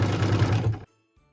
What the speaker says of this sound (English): So what we're stitching now is that tree trunk fill for the cute little trees in our snow globe.